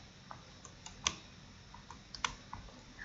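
Numbers keyed into an Excel spreadsheet on a computer keyboard: a handful of light, scattered key clicks with two sharper taps, close and quiet against a faint steady room hiss.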